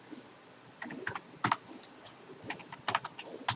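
Keys clicking on a computer keyboard while Java code is entered for a method overloading lesson, irregular taps in short clusters with pauses between them, close and fairly quiet, with no voice.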